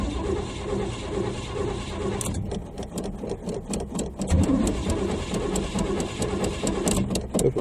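Cold start of a 1980 Chevy Malibu Landau engine: a muffled rumble, then after a couple of seconds a rough, uneven idle with rapid ticking and tapping, close and moderately loud.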